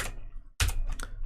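A few quick keystrokes on a computer keyboard while entering code, with light clicks and then a firmer tap after a brief pause, close and alone.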